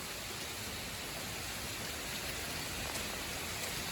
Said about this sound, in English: this rain is coming down so hard